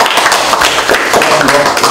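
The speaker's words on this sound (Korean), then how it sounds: "박수 좀 크게 쳐주십시오." Applause at a Bareunmirae Party appointment ceremony, a dense, steady wash of many hands clapping close and loud with a hint of voices underneath.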